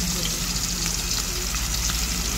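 Fish frying in oil in a large wok, a steady close crackling sizzle that runs through without a break and sits above a low hum.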